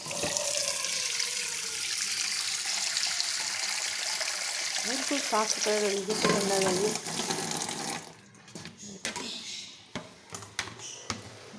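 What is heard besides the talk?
water filling the sink to wash radish leaves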